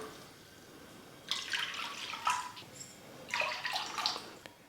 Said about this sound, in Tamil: மொத்தமாக 3 கப் அளவுக்கு தண்ணி சேர்த்துக்கிறேன்.